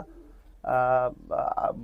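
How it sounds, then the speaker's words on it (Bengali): Salara Teddy pigeons cooing close by: two short, resonant coos, the first a sustained tone and the second a slightly shorter one, heard alone in a brief quiet moment. "এই দুটো আমার সালারা টেডি কবুতর"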